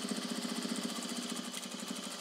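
A Juki DDL-8700 industrial sewing machine stitches at a steady pace, giving a continuous, rhythmic mechanical whirr with a fast, even beat that holds without a pause.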